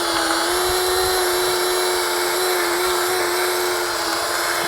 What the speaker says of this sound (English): Once you got them drilled out, you should be able to just pop off the heads.